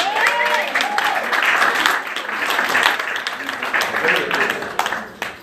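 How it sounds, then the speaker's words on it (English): A church congregation claps hands together in a dense, steady round of applause, with voices calling out over the clapping throughout before it tapers off at the end. "Give yourself a hand clap"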